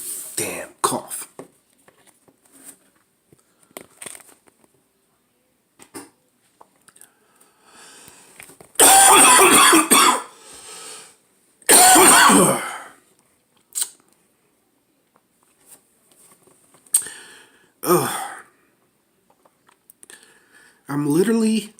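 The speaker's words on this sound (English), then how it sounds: "Damn, cough." A man coughs hard in two loud, harsh bursts close to the microphone, among scattered quieter clicks and brief speech.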